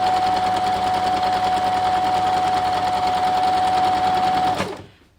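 A sewing machine hums continuously at an even speed, stitching quilt rows together, then winds down and stops near the end.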